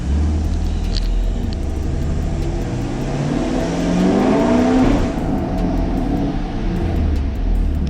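A 2021 Camaro SS engine with a cold air intake idles with a steady low rumble, then revs up around the middle with a rising growl and intake roar before settling back down.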